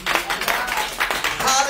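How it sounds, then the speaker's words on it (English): Church congregation at a Sunday service clapping hands in a quick, uneven burst of many overlapping claps, loud and close, with voices mixed in. "Let's give a hand clap because God did it."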